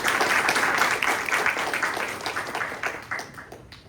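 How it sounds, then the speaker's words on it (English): An audience applauds a guest speaker, a dense wash of many clapping hands that starts full and gradually thins and fades over a few seconds. "Let's give her a big round of applause."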